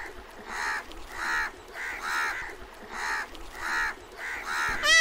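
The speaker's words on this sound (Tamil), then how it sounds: "ஏ காக்கா வந்துருச்சு பாரு, அங்கே பாரு, அங்கே பாரு, காக்கா வந்துருச்சு சாப்பிட்றதுக்கு." Crow cawing repeatedly outdoors, about nine harsh caws in a steady rhythm, fairly close and clear over quiet background.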